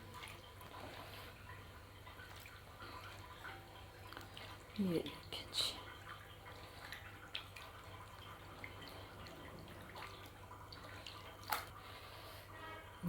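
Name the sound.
chicken gizzards being put in clean water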